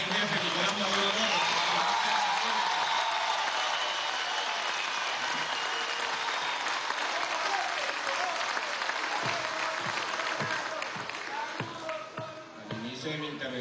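Audience applause for Venezuelan president Nicolás Maduro at a workshop with worker commissioners: sustained, loud, dense clapping that thins and tapers off toward the end, with voices mixed in.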